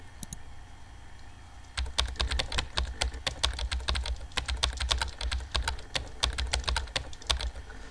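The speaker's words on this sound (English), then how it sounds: "I'm just mashing random buttons on the keyboard" Rapid, irregular keyboard typing from the video game Emily is Away, a dense stream of clicky keystrokes starting after a quiet opening and continuing steadily to the end, close and moderately loud with no talking.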